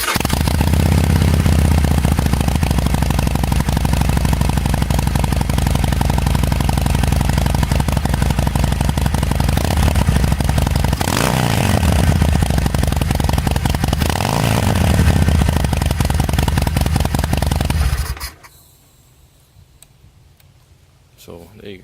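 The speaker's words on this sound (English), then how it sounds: "I'm just going to get you kind of a sound clip before I actually take the mufflers off." A 2016 Harley-Davidson Sportster with stock mufflers and drilled baffles idles loudly up close, a steady rumbling lope with two brief revs partway through, before the engine cuts off and near-silence follows.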